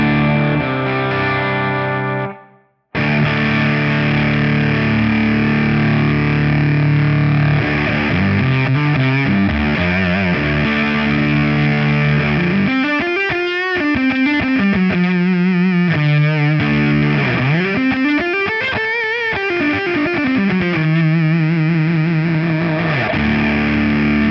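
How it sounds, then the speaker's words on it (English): Electric guitar fed through a Vital Distortion pedal with an octave setting gives a thick, fuzzy distorted tone with long sustain. After a brief gap, notes bend and waver, loud and close, with no voices. "has that nice fuzzy tone to it"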